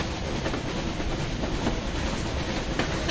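A train rolls along tracks in the post-apocalyptic game Metro: Exodus, a loud close rumble with faint rhythmic clicks of the wheels.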